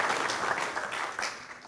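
Audience applause at an Arianespace launch event for flight VA236 carrying the SGDC and Koreasat-7 satellites: a dense, steady wash of clapping from a crowd, sustained evenly across the moment with no voices standing out.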